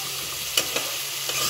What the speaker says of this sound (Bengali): তো পেঁয়াজ কুচিটা দেওয়ার পরে আমি একটু নাড়াচাড়া করে নিব